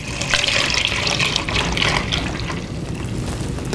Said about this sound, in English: I'm just going to pour it directly into one of our mixing bowls here